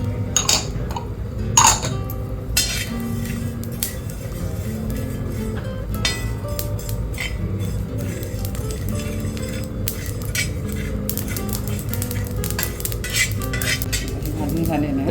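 Coriander seeds and fennel are dry roasted in a pan for a village-style jackfruit dish, with steady rattling and scraping as the seeds are stirred, plus metallic clinks from utensils and a faint low background hum.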